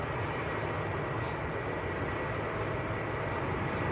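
A Ryanair airliner departs for Lisbon from Manchester Airport, a continuous, even jet roar at a distance, steady throughout with no talk.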